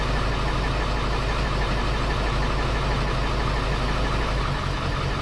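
A Ford 7.3L diesel engine idles steadily with a dense, continuous low rumble and clatter, loud and close, with no talking.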